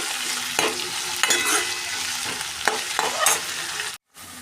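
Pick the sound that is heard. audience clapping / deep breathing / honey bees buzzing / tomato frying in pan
tomato frying in pan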